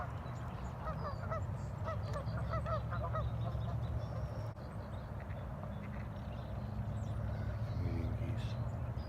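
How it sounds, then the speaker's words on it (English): Canada geese honk repeatedly in bursts, fairly close, over a steady low background rumble, with quieter calls continuing later and people talking faintly. "Those are Canadian geese for sure."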